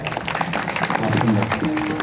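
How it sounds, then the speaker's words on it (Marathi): Brief, dense clapping from a kirtan audience applauding the organisers, steady and fairly loud throughout with a voice underneath. "या ठिकाणी आयोजकांसाठी एकदा टाळ्या वाजवा"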